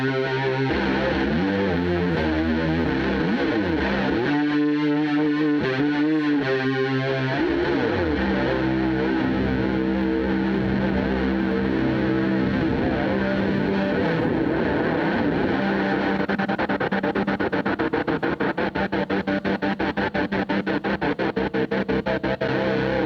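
Heavily distorted electric guitar plays gritty chords and riffs, loud and continuous, with a brief sustained passage near the start.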